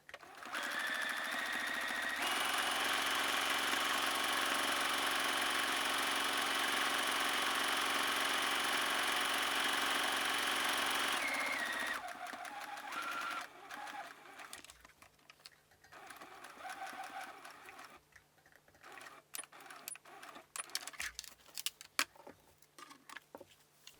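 Sewing machine running a long steady straight stitch along apron fabric strips, loud and continuous for about ten seconds, then stopping, followed by quieter handling and light clicking sounds.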